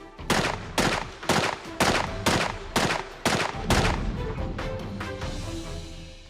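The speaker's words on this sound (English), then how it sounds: "Then the process is repeated with the submachine gun." Submachine gun fired at ballistic armor during a factory test: eight loud, evenly spaced single shots in quick succession, each sharp crack trailing into a short ringing decay.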